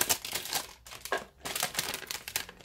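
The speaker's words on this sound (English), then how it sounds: "So I'm just taking the tape off" Tape is peeled off a cardboard tissue box in a series of close, crackly ripping and crinkling bursts with a short pause between pulls.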